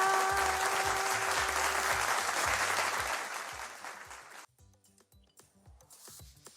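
Studio audience applause on a televised Kurdish quiz game show, loud and dense for about four seconds before dropping abruptly, leaving sparse scattered claps and faint background sounds.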